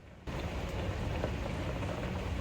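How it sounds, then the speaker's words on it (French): Steady rain pours down outdoors on an October day, a dense, even hiss that starts abruptly after a brief quieter moment and then holds without a break. "si vous entendez le bruit de la pluie"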